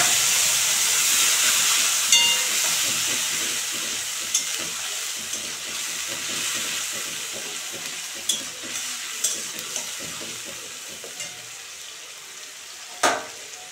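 Ginger, onion and green chili paste frying in hot oil with reddened fenugreek seeds, a steady close sizzle and hiss with scattered stirring clicks and a louder crackle near the end.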